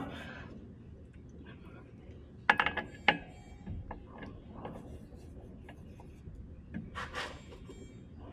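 Bolts are torqued during a clutch conversion on a 2019 Prowler Pro, with clicks of a ratchet and metallic clanks near the middle, mostly faint rubbing and handling noises around them, and someone talking briefly.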